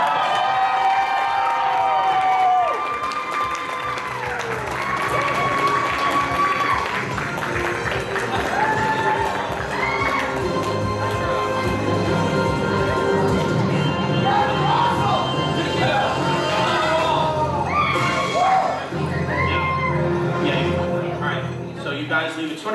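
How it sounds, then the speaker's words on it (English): A convention audience at Another Anime Con 2024 applauds and cheers steadily after a game-show round, a dense, loud wash of clapping, whoops and shouts that runs unbroken throughout. "Give a round of applause one more time, guys"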